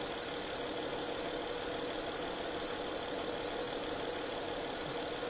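A car engine idles steadily in a workshop during diagnosis of a running fault, producing a continuous, even hum with broadband noise and no revving, alone without voices.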